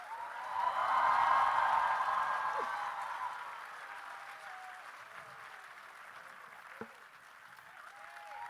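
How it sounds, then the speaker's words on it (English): Literature festival audience applause swells to a peak then gradually fades into a softer, sustained patter of clapping from a distant crowd. "Come on, a big round of applause."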